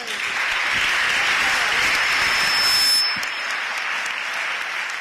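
A large audience in a hall claps continuously for several seconds, the applause swelling slightly before easing off toward the end.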